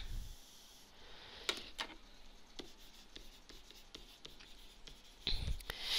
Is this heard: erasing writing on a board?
yes